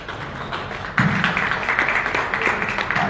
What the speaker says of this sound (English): with a round of applause, let's welcome the man of the moment, our brother